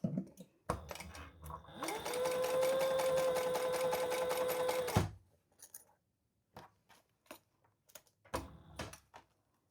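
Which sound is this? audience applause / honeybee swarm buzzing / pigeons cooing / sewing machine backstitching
sewing machine backstitching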